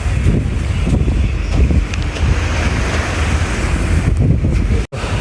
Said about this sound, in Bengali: আর ঢেউ দেখছেন নি কি পরিমাণ ঢেউ এর মধ্যে